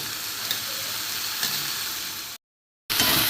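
Minced meat sautéing with tomato puree in a pan for kimar ghugni, a close, steady sizzle with light stirring scrapes, broken by a brief silent gap before the frying resumes.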